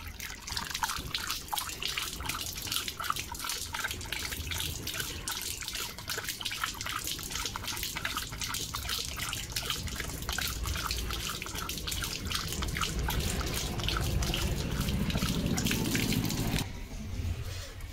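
Water pours steadily from a broken tap whose handles have snapped off, a continuous splashing gush with dripping texture running for the whole stretch, close by.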